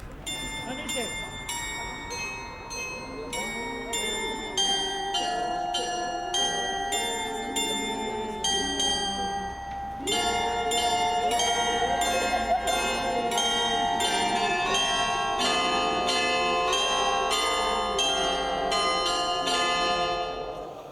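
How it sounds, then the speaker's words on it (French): A carillon rings out national anthems at an outdoor ceremony, bright bell tones striking in a steady melodic sequence that grows fuller and louder in the second half, with a faint crowd murmur beneath. "Ils ont d'abord entonné les hymnes français, allemands et européens joués par le carillon de l'Europe."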